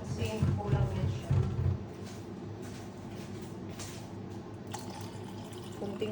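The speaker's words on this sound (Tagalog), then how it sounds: "maglalagay ako ng tubig" Water is poured into a blender for a mango shake, with a brief splashing rush at the start that fades into quieter trickling and kitchen noise.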